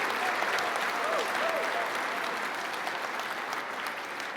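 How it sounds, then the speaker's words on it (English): Graduation ceremony audience at Stenberg College applauding steadily, a dense, even wash of clapping from a large crowd that holds at the same level throughout, with a few faint tones drifting over it. "So I'd just like a round of applause for the professionals up here"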